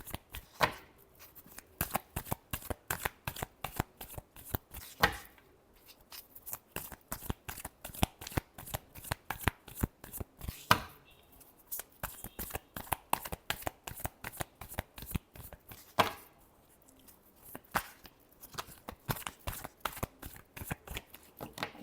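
Tarot cards are shuffled by hand in quick, crisp riffling bursts, repeated over and over with short pauses between rounds, close and fairly quiet.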